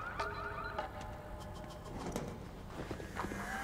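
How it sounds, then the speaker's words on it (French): A car alarm sounds in the video game Need for Speed Unbound, its warbling tones moderately loud within a busy garage ambience of scattered clicks and thuds. "C'est toi qui as déclenché l'alarme."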